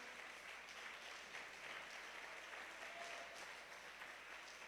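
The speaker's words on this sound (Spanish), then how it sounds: "Yo creo que usted puede mejorar ese aplauso para el Señor." A church congregation gives sustained applause during a sermon, a continuous wash of clapping heard from some distance, fairly quiet and even throughout.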